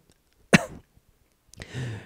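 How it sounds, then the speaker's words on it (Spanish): A single sharp cough bursts out, followed by a second rougher cough with a throaty rasp, close and fairly loud against near silence. "un molesto olor a tabaco invadió el ambiente provocándole tos"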